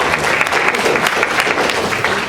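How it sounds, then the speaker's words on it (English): A room of university students applauding, a dense continuous burst of clapping lasting a couple of seconds with no talk over it. "Give yourselves a round of applause."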